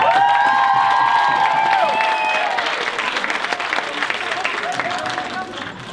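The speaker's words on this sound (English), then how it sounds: "Round of applause, please." At a high school show, an audience claps for alumni coming onstage, with dense, loud applause at first that slowly thins out, and a few voices and cheers mixed in.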